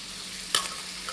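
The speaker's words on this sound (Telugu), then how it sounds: "ఇవన్నీ కొంచెంసేపు బాగా వేగనివ్వాలి." Black-eyed peas fry in a pan with a hiss of hot oil and a sharp stirring scrape, brief and close.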